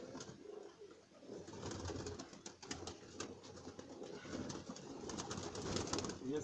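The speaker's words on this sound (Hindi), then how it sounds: "ये सियालकोटी बटेरा कबूतर है जी" Faint, low coos of Sialkoti pigeons drift through a dense, busy background of rustling and flapping, distant and continuous with no clear talk.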